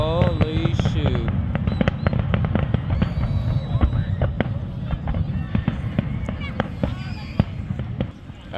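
July 4th fireworks crackle and pop continuously at close range, a dense rapid barrage of small bangs and bursts running almost throughout, with people talking and exclaiming underneath.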